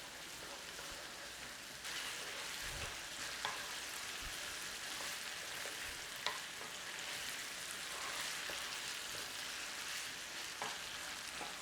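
Tomato paste gets stirred into browning minced meat for shepherd's pie, a constant hiss of frying with occasional spoon scrapes and taps, close and steady with no talk.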